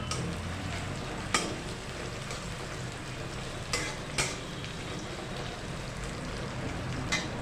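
Slit green chillies sizzle in hot oil for a garlic-tempered masoor lentil dal, a steady broadband frying crackle throughout with a few brief louder pops and spatters.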